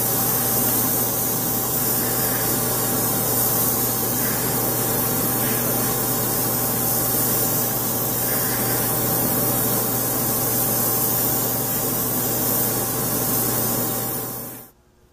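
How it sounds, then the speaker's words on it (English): Steady hiss of an airbrush spraying the main paint color over a Hobby Boss USS Arizona model ship, continuous and even, close by, with a low hum underneath, cutting off abruptly at the end. "now I'm going to use my airbrush and paint the entire model with the main color"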